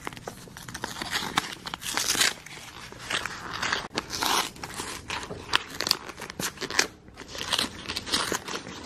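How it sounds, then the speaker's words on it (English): A Christmas card envelope torn open one-handed at home, close crinkly paper rips and crackles in irregular bursts, with rustling between tears. "we got our first Christmas card, so I'm gonna open it"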